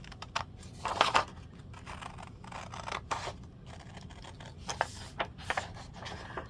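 Scissors snip and rub through paper while cutting out craft tags made from paper bags, a series of short crisp cuts in uneven bursts, close and quiet with no talking.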